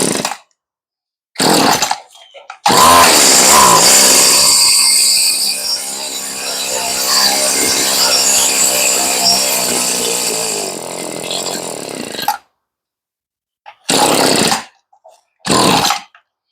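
A Stihl weedeater engine with a rebuilt carburetor runs on full choke with a broken choke lever, firing in short bursts, then running roughly for about ten seconds before dying and sputtering briefly twice more.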